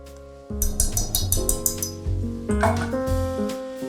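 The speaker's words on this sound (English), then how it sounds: "I scrape everything off the wooden spoon." Dough scraped off a wooden spoon into a bowl while making hot rolls, a rapid series of close knocks and clinks against the bowl rim, fairly loud, with no voices.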